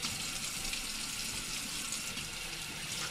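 Tap water runs steadily into a kitchen sink as food is rinsed under it while making turkey noodle soup, a continuous broadband splashing hiss at moderate level throughout, with no talking.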